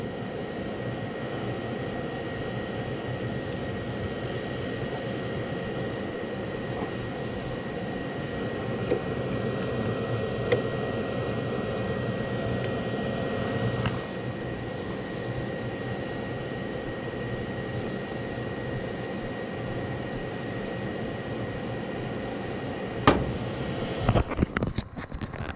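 A furnace blower pushes air through an HVAC system in first-stage heat, a steady, broad whooshing hum that stays constant and close throughout, with a few brief clicks and knocks near the end.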